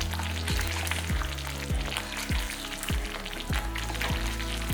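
Thick black pepper curry (milagu kuzhambu) bubbles and sizzles in a pan, with a regular series of soft plopping bursts over a steady frying hiss.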